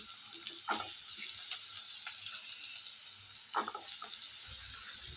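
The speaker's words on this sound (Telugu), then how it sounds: "ఇలా వేసేసుకుని శుభ్రంగా వేయించుకుని పచ్చివాసన పోయే వరకు వేయించుకోవాలండి." Chopped snake gourd pieces and green chillies sizzle in a pan for a Telugu chutney, a steady hiss of frying with a few soft stirring clicks and scrapes, close and moderately loud, no talking.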